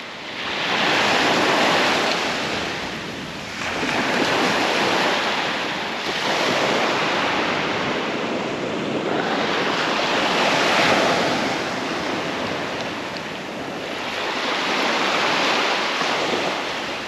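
Waves break and wash up a beach as the tide comes in, a loud continuous roar of surf rising and falling in slow surges, with wind buffeting the microphone.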